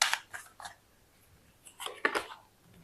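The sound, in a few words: shuffling tarot cards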